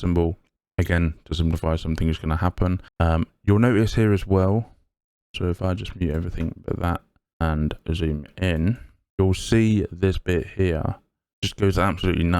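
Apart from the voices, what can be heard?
No everyday noise stands out behind the speech.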